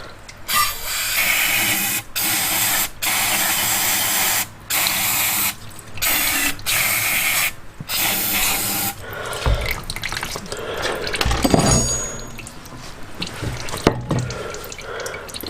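Fluid drains from the engine of a 1988 Kawasaki KLF300 Bayou ATV in a scrapyard, a steady, close splashing stream broken by brief gaps, then trickling and dripping, with no voice.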